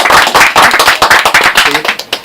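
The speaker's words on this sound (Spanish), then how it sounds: "Ahí nos están aplaudiendo desde allá también." A remote audience claps at a forum event, a dense run of sharp, loud handclaps in quick, steady succession.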